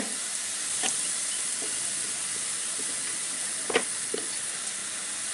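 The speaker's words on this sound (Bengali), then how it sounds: "খুব বেশি সময় না হয়তো আধা মিনিটের মতো ভাজলে রসুন কড়াইতে লাল হয়ে যাচ্ছে" Garlic sizzles steadily in hot oil in a wok while moringa dal is being prepared, a continuous close hiss with a few soft stirring clicks and no talking.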